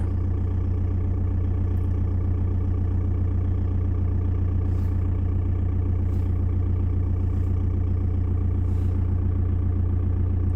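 A cold diesel engine idles steadily under about 55% load, with a generator drawing power and a coolant preheater controller running. The low, even rumble holds without a break, close by, with a few faint clicks and no voices.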